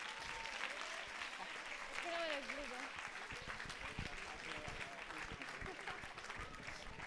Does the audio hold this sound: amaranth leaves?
no